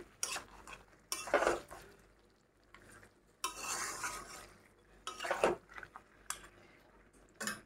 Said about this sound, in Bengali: আলুগুলোর সাথে মাংসগুলোকে ভালো করে আমি নেড়ে নিচ্ছি